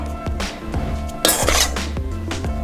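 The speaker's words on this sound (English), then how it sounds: "I'm gonna go ahead and take my pasta and dump it on in here" Cooked pasta tumbles into a mixing bowl for a seafood pasta salad, giving a few clinking, scraping knocks of utensil against bowl and a brief louder rustling spill, close up.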